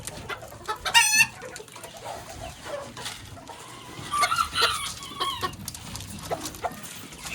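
A ginger red pair of Old English Game bantam chickens clucks close by, with a short crow near the start, set against other farmyard birds and a low background hum.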